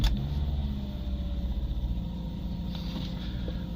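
A fifth-generation Subaru Liberty wagon with the FB25 2.5-litre engine idles at an auto parts yard, a close, steady low rumble with a faint whine, belts rubbing at the front.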